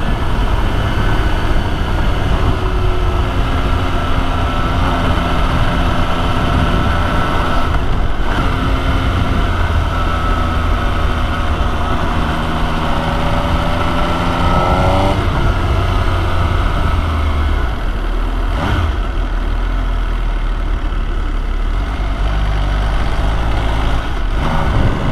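MV Agusta Brutale 800 motorcycle riding hard, its engine climbing through the revs with several abrupt quick-shifter gear changes and some wind rush, loud and continuous throughout.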